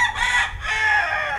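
A white fighting cock, a gamefowl broodcock kept for cockfighting, crows loudly and close by in one full two-part call with a brief break in the middle, heard alone without talk.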